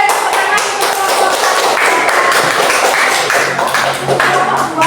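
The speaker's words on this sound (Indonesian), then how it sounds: "tepuk tangan untuk kelompok" A classroom group gets clapping from fellow students during a school teaching assessment, a dense, fairly loud patter of hands that runs steadily throughout, with a few sharper taps standing out.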